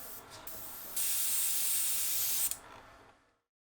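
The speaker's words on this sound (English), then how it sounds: "Then I spray a bit of thinner through it" A steady airbrush hiss sprays thinner for about a second and a half, close and loud, then cuts off and fades to silence.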